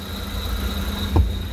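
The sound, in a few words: car engine running (Korean car)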